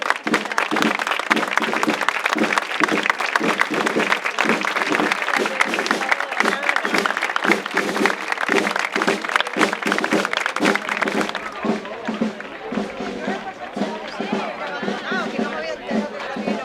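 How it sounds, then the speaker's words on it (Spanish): A crowd applauds with sustained, rapid clapping for about eleven seconds at a town festival opening proclamation, then it thins into scattered claps and murmuring voices. "Un aplauso."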